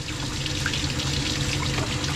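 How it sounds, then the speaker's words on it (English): Soapy water pours off a Cocker Spaniel's coat during a full grooming bath, a steady close rushing flow like a running tap that continues unbroken with no voices. "this is clean soapy water that is coming out."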